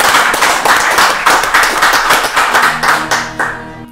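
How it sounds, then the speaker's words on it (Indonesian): An audience at a military headquarters gathering claps steadily and loudly for about four seconds, the individual hand claps distinct and close, with no talk over them. "Kita berikan Tepuk tangan dulu."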